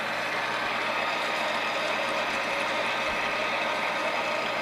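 A metalworking machine, likely a lathe, runs at about 460 RPM in a workshop, giving a steady low mechanical hum and broadband whir that holds evenly throughout without pauses or talk.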